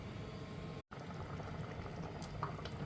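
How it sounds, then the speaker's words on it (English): Tomato soup with passata bubbling as it comes to the boil in a pot, a steady low simmering burble with small pops, faint and continuous. "it's come up to the boil"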